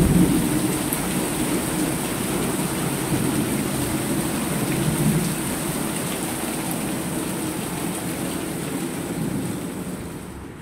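Heavy rain pours down outdoors in a steady, dense roar, with low rumbling thunder mixed in, loud and close throughout with no voices.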